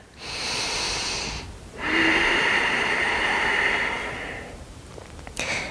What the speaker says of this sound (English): Breathing strong and deep.